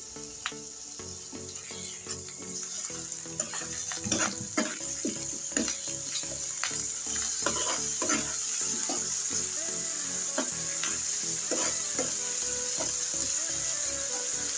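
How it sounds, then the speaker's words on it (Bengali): Ground spices with cumin paste and salt frying in oil for a bitter gourd and rohu fish curry, a steady close sizzle under frequent clinks and scrapes of stirring throughout. "তেলের উপরে চেষ্টা করবেন মশলাটা একটু হালকা করে ভেজে নেওয়ার জন্য"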